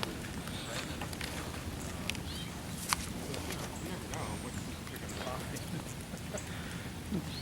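Rain pours down in a severe thunderstorm, a steady dense hiss of drops on surfaces with sharp splatters and taps, a faint voice underneath and the downpour never letting up.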